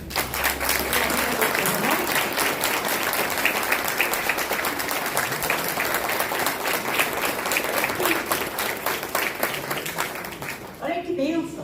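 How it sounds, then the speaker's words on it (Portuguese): A church congregation at an anniversary service applauds loudly and continuously, a dense wall of clapping filling the room for about ten seconds before fading, with voices mixed in beneath. "Dá para a gente aplaudir o Senhor Jesus Cristo?"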